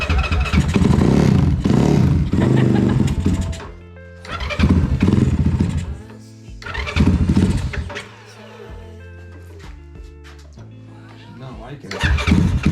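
Rebuilt Honda ATC70 three-wheeler with a small single-cylinder engine, revving up and dropping back to a stuttering idle in repeated swells, loud and close, with a voice heard now and then.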